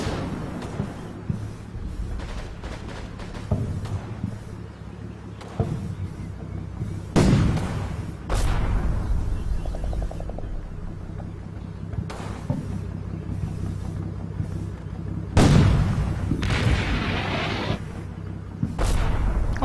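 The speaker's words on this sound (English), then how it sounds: "Come on, range in that artillery" Artillery fire in the wartime strategy game Combat Mission: Battle for Normandy, with repeated booming shell impacts and blasts at irregular intervals over a steady rumbling background, some bursts louder and closer than others.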